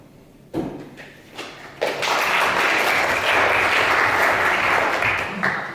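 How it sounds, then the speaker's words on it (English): An audience claps between poems at a poetry reading, applause starting with scattered claps, swelling into a full, sustained round for several seconds, then thinning near the end. "No need to clap between poems,"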